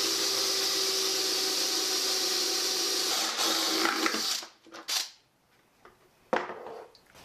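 A power drill fitted with a Forstner bit bores a hole during a DIY build of a fogging witch's cauldron decoration, a loud steady motor whine for several seconds that cuts off, followed by a few scattered knocks and handling sounds.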